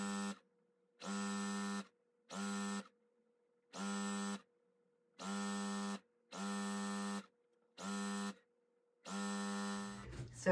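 A sewing machine stitches fabric strips together for a bargello quilt in short, buzzing bursts, about eight even runs of the motor separated by brief pauses, close and fairly quiet.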